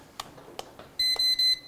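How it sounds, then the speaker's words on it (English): A handheld RFID reader gives a run of three sharp electronic beeps in quick succession after copying a tag, loud and close, following a few soft clicks. "Three beeps mean it's done."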